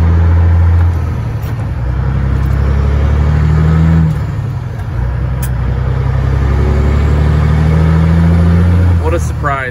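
A Freightliner FLD truck's diesel engine drones low and loud while the rig curbs a turn, with a steady rumble that dips briefly midway before picking back up, and someone talking over it.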